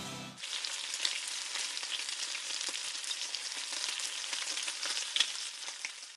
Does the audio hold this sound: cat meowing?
no